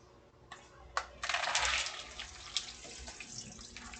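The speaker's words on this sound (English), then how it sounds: "I'm going to rinse now." Tap water runs into a sink for a rinse while cooking, beginning after a few clinks and splashing steadily before easing off, fairly quiet and close, with no talk.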